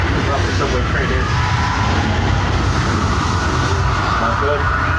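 Staged subway train effect on a Universal Studios Hollywood studio tour ride, a loud continuous rumbling roar of rail noise filling the scene, with a voice speaking over it.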